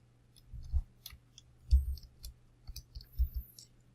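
Several discrete key presses on a computer keyboard, typed in short irregular bursts, close and fairly quiet, with no talking.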